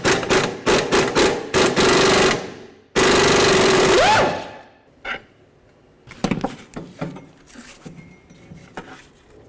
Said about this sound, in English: Now let's remove the lower bolt and hold the shock at the same time